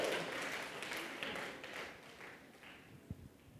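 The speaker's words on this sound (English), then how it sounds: "Please round of applause." Light audience applause at a REPRISE Mumbai 2023 talk trails away, a soft, scattered patter that thins out and fades with a few last claps.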